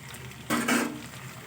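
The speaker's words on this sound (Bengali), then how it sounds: "তারপরে দিয়ে দেবো শিম" Green beans drop into a pan of sizzling Bengali mixed-vegetable curry with carrots: a short, close burst of hissing and clatter rising over steady background frying.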